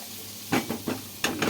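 Bell peppers, hot peppers and red chilies stir-fried in a pan, with steady sizzling broken by four or five quick, close stirring scrapes.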